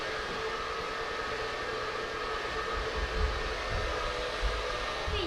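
A hair dryer blows steady heat onto bleach-coated hair, a constant close whirring rush with a faint whine that holds level for the whole few seconds, no voices.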